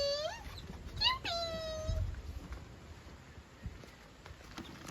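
A tied-up puppy on a village farm near Trambakeshwar whines in a few high, wavering cries at the start, fading into quiet background rustle and low thumps.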